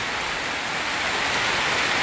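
Steady, dense rain falls on a rainy day in Suriname, a continuous even hiss of drops on surfaces with no pauses and no voices.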